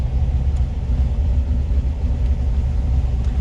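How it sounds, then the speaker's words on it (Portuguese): A Chamonix 356 replica car just after the ignition key is turned: a steady low rumble and hum from the engine bay, loud and continuous with no voices. "eu girei a chave da ignição, né? E já teve aqui o som da injeção"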